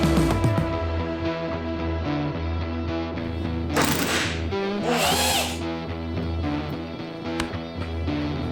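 A power drill backs screws out of an old school bus ceiling, loud, close whirring bursts repeating with short pauses and a couple of harsh, grinding spikes, with no talking.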